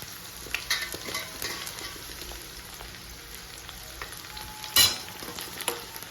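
Cut bitter gourd frying in hot oil for a Tamil bitter gourd curry, a steady close sizzle with scattered crackles, light stirring clatter and one sharp louder pop midway.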